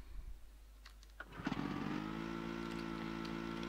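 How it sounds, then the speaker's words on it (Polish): A snowmobile engine in Tomb Raider II sputters through a few cranking bursts, catches, then settles into a steady, buzzing idle close by. "Dobra, to bierzemy skuter."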